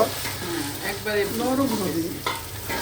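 Khichuri cooking in mustard oil in a pan, with continuous sizzling and stirring scrapes; faint voices murmur in the background.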